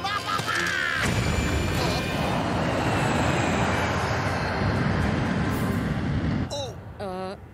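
A cartoon airplane engine drones loud and steady for about six seconds, then cuts off abruptly as a voice speaks over the end.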